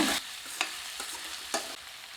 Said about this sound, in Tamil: ஒரு நிமிஷம் நல்லா கலந்து விட்டுட்டு